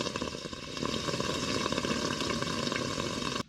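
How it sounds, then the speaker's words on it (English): Engine oil draining from a Takeuchi TL6 tracked skid steer while compressed air is blown in, a steady hissing, gurgling rush at even volume that cuts off abruptly at the end. "the oil's draining really slow, so I'm just blowing a little bit of air in just to speed it up some"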